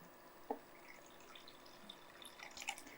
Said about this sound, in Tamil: இது கூட தேவையான அளவுக்கு தண்ணி சேர்த்துக்கலாம்.